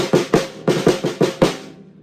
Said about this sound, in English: So the Ratamacue is 2 grace notes followed by a single stroke 4